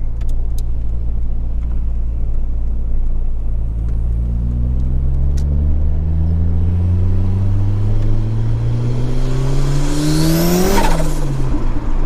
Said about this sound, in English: So it's just spinning the wheels.